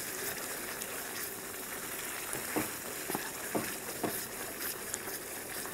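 Keema saag with green chillies and fresh coriander sizzles steadily in oil in a pan, with a few soft scrapes of stirring spaced through the continuous frying hiss.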